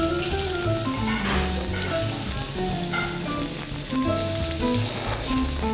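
Meat on a grill gives a steady, dense sizzle that fills the whole stretch, with no talk over it.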